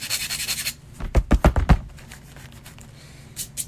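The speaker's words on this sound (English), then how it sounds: "we're still just sanding the cane." Close-up scratchy sanding on a wooden cane prop: a brief burst, a pause, then a quick series of five or six rasping strokes before fading to faint rubbing.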